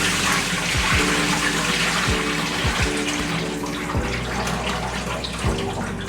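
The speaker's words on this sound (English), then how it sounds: "just gonna give this rice a couple more washes" Rice being rinsed in water while cooking, a loud, continuous rush of running water with sloshing, close to the microphone and uninterrupted.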